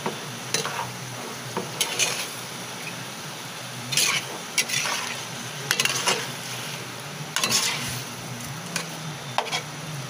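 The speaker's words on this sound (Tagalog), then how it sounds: "Ayan, haluin lang natin guys." Pork menudo being stirred in a pan with oyster sauce added, a spoon scraping and clinking against the metal in irregular bursts over a low, steady sizzle.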